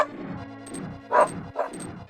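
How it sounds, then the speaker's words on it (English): A dog lets out a handful of barks and yips close by, spaced about half a second apart, with the louder barks near the end and no speech over them. "That dog's hearing is just impeccable."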